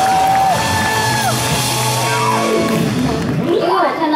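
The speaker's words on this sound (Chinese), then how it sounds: "鼓掌。" Concert crowd at a live show whooping, yelling and cheering loudly, a continuous roar with high shouted cries rising over it and some voices talking.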